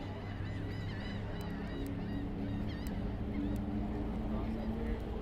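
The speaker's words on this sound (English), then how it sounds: "The seagulls, pelicans." Seagulls and pelicans call repeatedly in the distance at Clearwater Beach, Florida, rising squawks and cries scattered over a constant outdoor wash of wind and surf.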